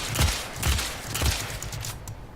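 The Nagantaka crossbow fires in Warframe: three or four quick, soft shots in a rough rhythm, fairly close and fading out at the end.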